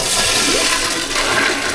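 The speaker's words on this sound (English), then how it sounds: "Your toilet. Let's give it a flush." A toilet in a beachfront Disney resort bathroom flushes with a loud, continuous rushing gush of water, close up and steady throughout with no talking over it.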